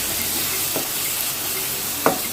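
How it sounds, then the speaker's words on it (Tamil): Tomatoes being mashed and stirred in a hot pan for paneer biryani, a low steady sizzle with two short scraping stirs of the spoon against the pan, close and without talk. "தக்காளி நல்லா ஸ்மாஷ் ஆச்சு"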